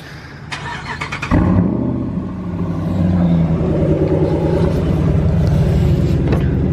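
A pickup truck's engine comes to life with a loud, deep rumble after a brief knock, then holds a steady, heavy drone as the truck pulls away, close by and without talk.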